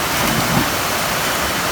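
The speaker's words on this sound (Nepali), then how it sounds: "यहाँ झर्ना देख्न सक्नुहुन्छ हाम्रो माथि एकदम बवाल झर्ना छ।" Waterfall in Nepal pouring above a cold pool, a steady broadband rush of falling water, loud and close with no speech.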